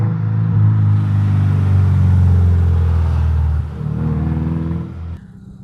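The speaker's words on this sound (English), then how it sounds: "We're gonna turn this car on after we drop it" A Subaru car with a loud modified exhaust revs hard and steadily, a deep booming rumble held for several seconds before dropping and cutting off, close and loud with no talk.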